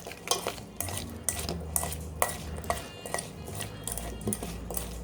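Mango salsa being stirred together with squeezed lime juice and a drop of neutral cooking oil, a spoon clinking and scraping against a bowl in repeated close, uneven strokes with no talk.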